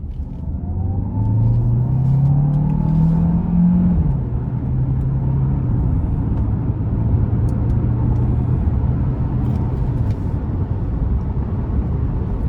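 A 2025 Hyundai Santa Fe Hybrid SEL accelerates hard, its engine note climbing steadily for a few seconds before settling into a sustained, loud drone over road rumble, with no talking.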